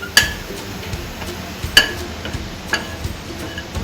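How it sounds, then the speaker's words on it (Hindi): Dried kasuri methi (fenugreek leaves) being dry-roasted in a pan over a gas flame, heard as a few sharp metallic clinks and stirring scrapes of a spoon against the pan over a quiet background. "हम कसूरी मेथी इनको थोड़ा भून लेते हैं"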